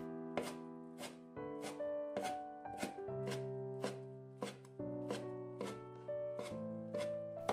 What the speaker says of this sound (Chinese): 放在案板上用刀切碎